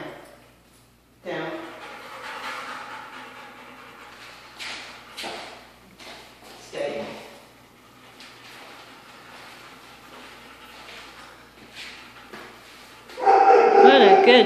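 A pet dog plays with a ball outdoors, giving a few scattered short barks and yips among people talking warmly nearby, with a louder burst of sound near the end.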